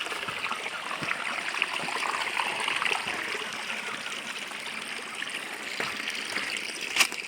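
Constant babbling flow of the Khardu stream, close and steady, with a small splash or knock near the end and no talking.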